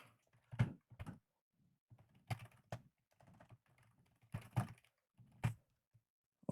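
Irregular bursts of computer keyboard typing, short clicks and keystrokes in scattered clusters, fairly close and quiet, with pauses between runs.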